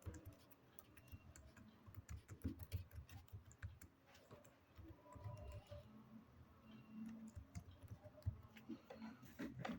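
Quiet, uneven keystrokes on a computer keyboard, a rapid patter of light clicks in bursts with short pauses, close by and faint, with no talking.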